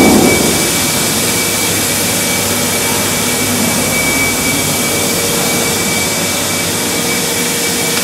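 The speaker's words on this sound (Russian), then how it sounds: "Да, вот такой вот моторчик." A small motor runs steadily on the Tower Bridge mechanism, giving a loud continuous whirring drone with a faint high whine that holds evenly throughout, with no speech.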